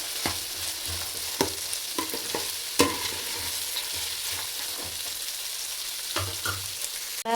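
Chicken curry fries and is stirred in hot oil in a pan, a steady close sizzle with repeated sharp scrapes and clinks of the spoon against the pan and no talking.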